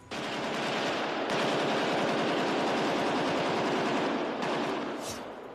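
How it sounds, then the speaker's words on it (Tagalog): Sustained, deafening bursts of rapid gunfire at a hotel rattle almost continuously, loud and close, with brief pauses. "umalingaw-ngaw ang magkasunod at nakabibinging ratsyada ng mga baril"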